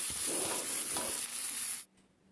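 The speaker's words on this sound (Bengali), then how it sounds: "সব ভালো করে মিক্স করে নিচ্ছি।" Green chillies and peas are stirred into a soft tomato curry in a pan, giving a short stretch of hissing sizzle with light scraping strokes before it cuts off to quiet.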